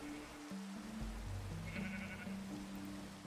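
Sheep bleat in the video game Minecraft, a faint, brief bleat in the middle, set over quiet, sustained in-game music and low background hiss.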